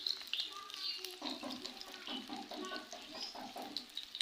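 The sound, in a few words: aloo kabab frying in oil on low flame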